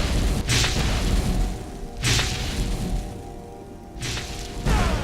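Three booming blaster staff shots from a Star Wars mod for Skyrim fire about two seconds apart, each a loud, heavy blast with a whooshing tail over steady game ambience.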